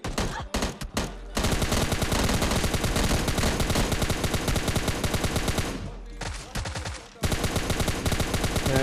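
Gunfire in PUBG Mobile Lite: dense, rapid automatic bursts rattling almost nonstop, loud and close, with a few brief pauses and isolated shots near the start and again toward the end.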